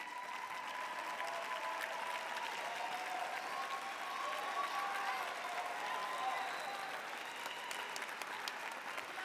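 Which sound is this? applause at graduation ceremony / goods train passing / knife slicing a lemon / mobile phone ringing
applause at graduation ceremony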